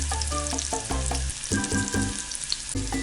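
Turmeric and Kashmiri chilli powder fry with onions for rajma, a loud close sizzle mixed with stirring and tonal clinks from the pan, and nobody speaks.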